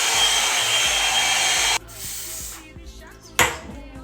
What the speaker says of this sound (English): Now I'm gonna use this blow dryer to blow dry my hair out.